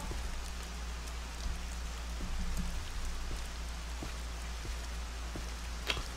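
Rain falling in the Morrowind video game, a steady hiss of drops over a low ambient hum, with scattered soft taps throughout and one sharper crack near the end, no voices.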